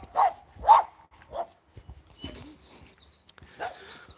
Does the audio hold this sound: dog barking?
yes